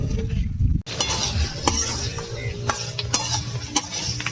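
Chicken sahajiya cooking over heat in a pan, a steady sizzle and bubbling with occasional light clinks of a utensil stirring against the pan after a brief cut.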